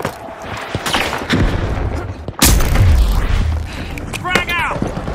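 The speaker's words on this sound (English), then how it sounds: "Tossing a frag!" Frag grenade blast in the shooter game THE FINALS, a sudden loud boom with a low rumbling tail midway through, amid scattered gunfire and a voice talking nearby.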